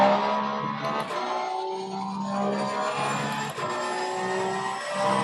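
Race car engine in Assetto Corsa Competizione revving hard and steady under full throttle, a sustained loud drone with rising harmonic tones and brief dips between gear changes, alone without talk.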